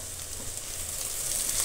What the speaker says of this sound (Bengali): এবার আমি এখানে পেঁয়াজ রসুন পেস্ট আর আদা পেস্টটা অ্যাড করে দিয়ে দেবো